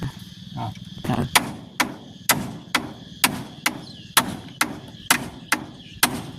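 Steady hammering outside a house, about a dozen sharp, loud strikes in an even rhythm roughly every half second, with faint chatter and insect sounds in the background.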